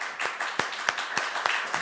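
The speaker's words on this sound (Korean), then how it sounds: "박수하겠습니다." A church congregation claps in a steady, fairly quick rhythm of sharp, distinct handclaps, moderately close, with no talking over them.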